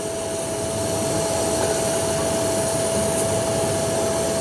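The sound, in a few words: welding a pipe during 12V AC compressor replacement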